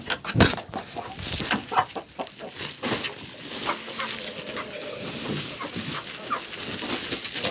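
Chickens cluck and squawk nearby after dark amid scuffling and rustling, with a turkey among them, a busy barnyard clatter that continues throughout.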